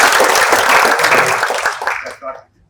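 Brief burst of audience clapping at a leadership masterclass, dense and fairly loud, fading out quickly after about two seconds, with voices mixed in.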